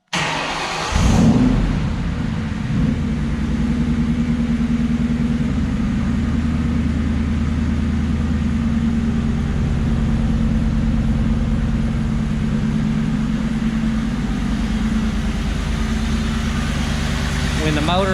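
A 1967 Ford Mustang fastback engine cranks briefly, fires up, and settles into a steady, close, low rumbling idle that holds for the rest of the stretch, with someone talking over it.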